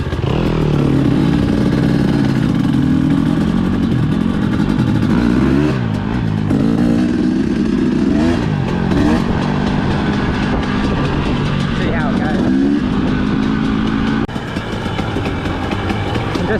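A 2020 Husqvarna TE250 dirt bike ridden in second gear along single-track trails beside a fire trail, its engine droning loudly and steadily throughout with slight pitch shifts as the throttle changes.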